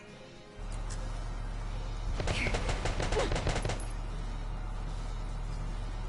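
Tank under gunfire in the video game Valkyria Chronicles: a rapid burst of machine-gun rounds rattles for about a second and a half over a steady low engine drone, then the drone carries on alone.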